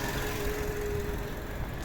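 A 2009 VW Golf V with a 1.6 MPI petrol engine idles steadily and quietly at the exhaust, a low even hum with a faint whine, heard close with no talk.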